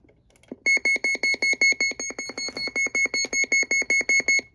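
A weather radio in alert mode beeps in a steady, rapid series of loud, identical high electronic tones, about two dozen pulses in a row with nothing else heard.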